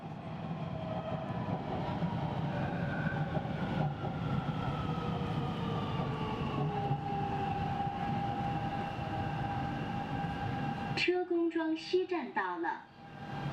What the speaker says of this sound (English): We are arriving at 车公庄 West Station.